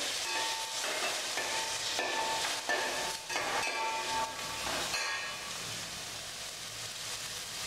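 Beans, peas, onion and cauliflower sauté in a pan with a steady, broad sizzle and scraping stir strokes, close and continuous with no voice.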